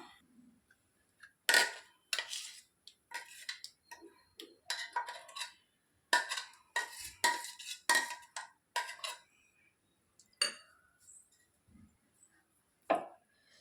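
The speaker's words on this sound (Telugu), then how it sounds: "ఈలోపు ఈ పచ్చడి ఒక బౌల్లో తీసుకుందాం" A spoon clinks and scrapes against a bowl while watery cucumber chutney (dosakaya pachadi) is transferred, a string of sharp, close taps and scrapes in irregular bursts separated by quiet pauses.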